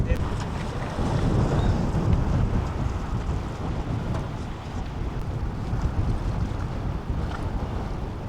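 An RC Mini 40 catamaran sails in strong wind on open water, with heavy, continuous wind buffeting on the microphone and a low rumbling wash throughout.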